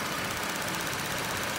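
A 3.6L V6 car engine running after a VVT solenoid repair, a steady, dense mechanical hum with a fine rapid ticking texture, close and constant, with no talking.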